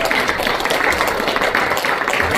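Steady applause from a room full of people at a church mission seminar, dense and continuous clapping with no pauses, fairly close and loud throughout.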